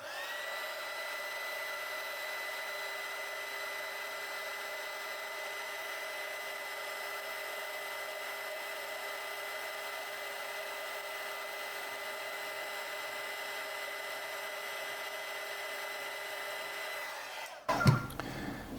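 A heat gun blowing hot air to shrink heat-shrink tubing over a banana connector's solder pot, a steady continuous whirring drone that cuts off abruptly near the end with a clunk.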